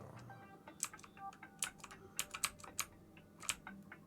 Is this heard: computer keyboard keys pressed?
yes